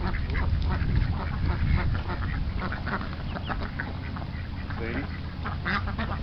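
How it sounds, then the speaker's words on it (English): Mallard and runner ducks at a pond quacking repeatedly at close range over a steady low rumble of background noise, with people talking nearby. "The male mallard was getting busy with Sandy."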